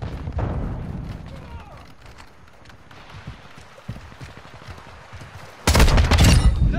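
Gunfire in a Call of Duty-style shooter: repeated rapid bursts of automatic shots at moderate distance with quieter gaps, ending in a sudden loud, close barrage. Voices are mixed in.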